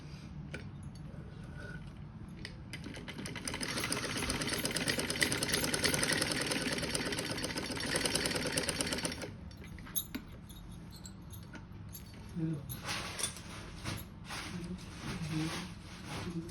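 A sewing machine stitches two salwar panels together at a half-inch seam, running in a steady close whir for several seconds before stopping, followed by softer handling clicks.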